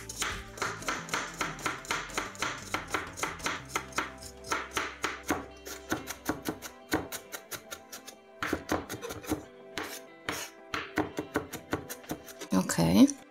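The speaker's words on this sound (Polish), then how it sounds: "Czosnek też sobie tak drobniej posiekam." Garlic chopped finely with a knife on a board gives a steady run of quick, crisp chops. The chopping stops briefly, then resumes less evenly, with a louder clatter at the very end.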